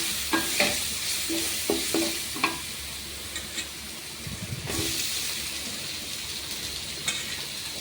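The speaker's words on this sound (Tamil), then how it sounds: "நம்ம வதக்கிக்கலாம் வாழைப்பூ" Banana flower being sautéed in a pan for a curry, a steady near sizzle with several distinct clanks and scrapes of stirring and a louder burst midway, with no speech.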